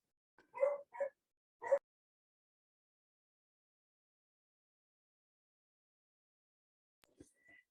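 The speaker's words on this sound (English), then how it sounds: "my dog is barking" A dog gives three quick barks close by, then a long silence before a faint, brief sound near the end.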